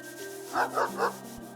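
A dog in the video game Chained Echoes gives three quick, evenly spaced barks over a soft background hum.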